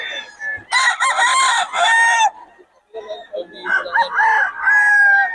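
A bullstag rooster crows loudly and close by in two long bursts, with clucking fowl and other bird calls around it.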